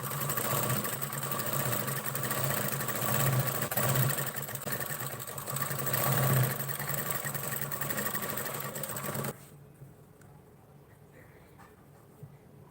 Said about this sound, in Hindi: यहाँ पर दाब सिलाई लगाएंगे इस किनारी पर